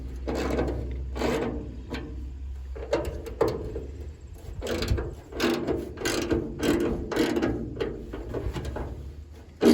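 Ratchet wrench fitted with a 10mm socket working on a Ford F-150 truck, quick bursts of clicking pawl strokes repeated in uneven rhythm, close and fairly loud, with light handling noise between.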